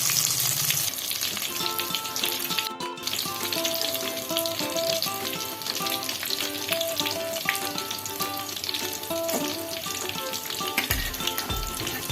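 Steady, loud sizzling of marinated chicken for satay frying in a pan, continuous crackle with occasional stirring clinks and no talk.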